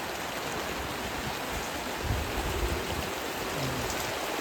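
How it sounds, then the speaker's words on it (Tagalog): Heavy rain pours steadily outdoors, a dense, continuous hiss of drops striking surfaces with a low rumbling wash underneath, loud and unbroken with no voices. "Pero malakas po talaga ang ulan."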